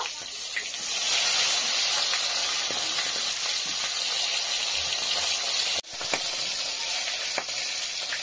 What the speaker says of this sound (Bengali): এক পাশটা ভাজা হয়ে গেছে, এখন উল্টে দেব।